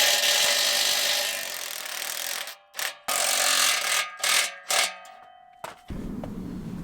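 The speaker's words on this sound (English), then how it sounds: "We're just gonna disconnect this muffler clamp here and here," Exhaust muffler clamps being worked loose on a Mustang, with a power tool whirring steadily, then short bursts of metallic clanging and ratcheting, close and fairly loud.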